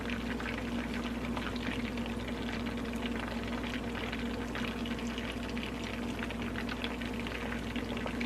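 Crab cakes frying in a pan of oil, a faint continuous bubbling sizzle with a steady low hum underneath, heard alone without talk.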